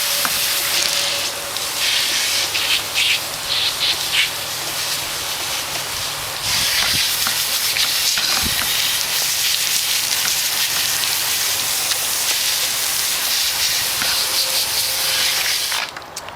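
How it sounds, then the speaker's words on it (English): Water sprays steadily onto a mountain bike in a continuous, close, loud hissing rinse with brief shifts in intensity as the stream moves across the frame. "Now we're just going to rinse it off."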